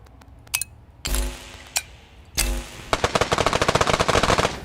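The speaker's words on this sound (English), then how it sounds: "Can I fire more bullets?" Rapid automatic gunfire from a weapon in the pixel-physics game Untitled Pixel Simulator: a few isolated shots, two heavier blasts, then a fast, steady stream of loud, crisp rounds.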